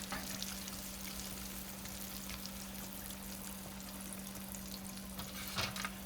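Shrimp coated in cornstarch frying in hot oil for bang bang shrimp, a steady dense sizzle running throughout with a constant low hum beneath and a brief louder crackle near the end.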